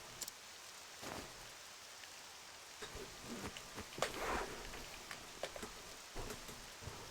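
Poison rain falling in the video game Octopath Traveler II, a steady soft hiss of rainfall with scattered sharper drips and splashes, quiet and continuous with no voices.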